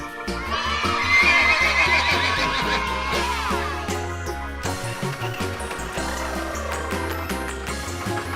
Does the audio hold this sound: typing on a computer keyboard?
no